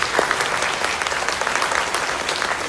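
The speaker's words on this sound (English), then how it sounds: "So would you give those folks a nice round of applause?" Audience applause fills a choir pops concert hall, a dense, steady wash of many hands clapping that holds at an even level throughout, with no voices breaking through.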